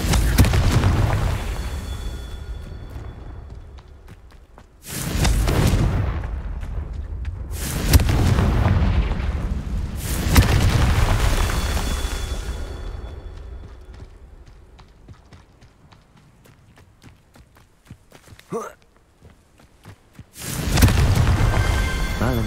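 Repeated Confringo fire-spell blasts in the video game Hogwarts Legacy, four loud booming bursts spaced a few seconds apart, each with a long rumbling decay, and a brief sharp crack between the last two.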